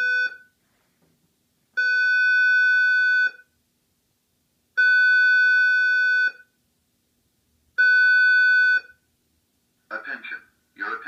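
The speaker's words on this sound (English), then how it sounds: "I have it set on slow march time horn" A Simplex fire alarm horn sounds its slow march time tone, three long sustained blasts of about 1.5 seconds each with even pauses, loud and clean, followed by the start of a spoken voice message.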